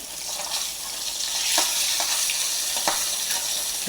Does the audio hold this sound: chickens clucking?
no